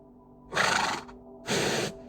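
Two loud, bright horse neighs in a video game, each about half a second long, with a quiet hum in the background between them.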